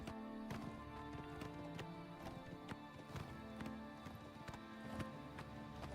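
A horse gallops in the video game Oblivion Remaster, faint rhythmic hoofbeats thudding in an even repeating pattern over a steady background of game music.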